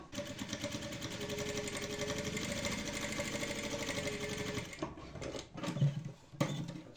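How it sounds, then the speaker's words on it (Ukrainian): A sewing machine runs continuously for nearly five seconds, stitching a straight seam a millimetre or two from the edges of a fabric loop for a phone-stand pillow, then stops, leaving a few quiet handling clicks. "опускаю лапку, голку, виконую строчку вкрай 1-2 мм від двох оцих країв"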